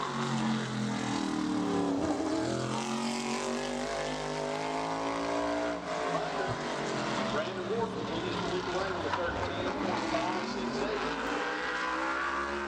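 A modified race car howls through a qualifying lap at Bowman Gray Stadium, its engine a loud, sustained roar with shifting pitch as it passes, and a track announcer talks over it throughout.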